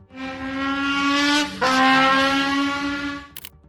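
A voice imitates a motorbike engine revving, a sustained buzzing drone that dips briefly, then rises again before cutting off.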